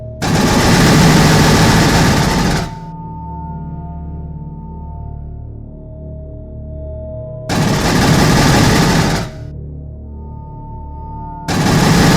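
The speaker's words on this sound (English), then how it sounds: "Blow up the red wall with your gun" A video game gun firing at a red wall, in loud sustained bursts of rapid automatic fire that stop and start again, with a steady electronic hum in the gaps.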